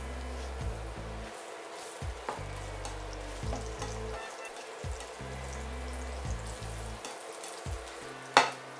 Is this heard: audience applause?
no